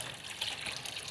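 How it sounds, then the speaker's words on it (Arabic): Water pours into a bowl for mopping a floor, a faint, brief, steady trickling fill. "هنا راح أجيب هاي الطاسة وأحط بيها المي"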